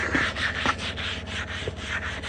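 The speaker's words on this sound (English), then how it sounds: "we're gonna take our brush and we're gonna scrub it real good" A brush scrubs a textured junkyard car dashboard pad in quick back-and-forth strokes, a close, continuous rubbing and scraping with no one talking.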